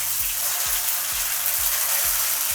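Ginger, cumin and green chili paste frying in oil for Bengali puja bhog khichuri gives a loud, steady, close sizzling hiss that continues without pause.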